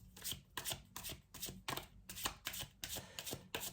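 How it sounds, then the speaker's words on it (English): Tarot cards are shuffled in quick, rhythmic riffles, a series of crisp flutters repeating steadily up close. "I'm gonna shuffle again."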